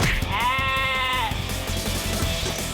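A single wavering cartoon goat bleat rings out over a busy background of rhythmic thumps and scuffles, lasting about a second before the noise carries on alone.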